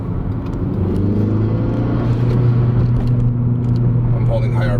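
Car engine with a Greddy cat-back exhaust held at steady high revs, a continuous loud droning rumble with strong steady tones, close to the microphone, with a voice talking over it.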